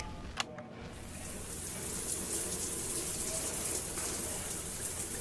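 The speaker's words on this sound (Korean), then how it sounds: "(11분) 동안 샤워를 하는 소리." Steady, continuous rush of running water like a shower, filling the clip at an even level with a faint clunk near the start.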